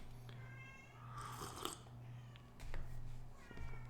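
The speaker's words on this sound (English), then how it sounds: "He's meowing outside the door." A cat meows faintly from outside a door, a few muffled distant cries over a steady low hum of room noise.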